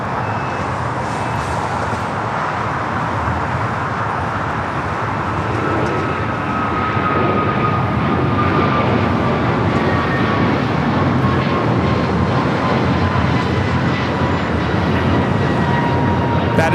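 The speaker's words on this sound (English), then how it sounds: "That is American Airlines 3013 taking off to Philadelphia on the A321neo" An American Airlines A321neo takes off at LAX, its engines a loud, steady, broadband roar with a faint rising whine that holds for the whole stretch and grows slightly louder partway through, with no voices.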